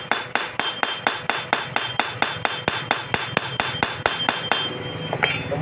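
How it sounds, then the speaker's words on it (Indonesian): A hammer strikes a welded-on broken bolt stuck in an engine block, about twenty sharp metallic blows in a fast, steady rhythm, close and loud with no talking. "Ini setelah kita tambah las, kita pukul-pukul."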